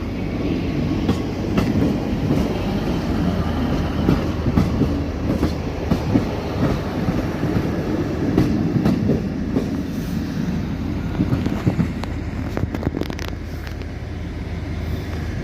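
A train rumbles through Sheffield station, a steady rolling roar with clattering wheel-on-rail bursts that stays loud and close throughout, no voices over it.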